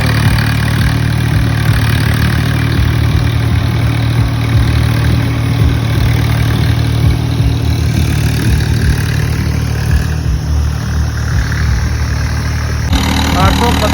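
A Punjabi farm tractor, a 755 model, idles steadily and loud and close for the whole stretch, its low engine drone continuous with a slight change in tone near the end.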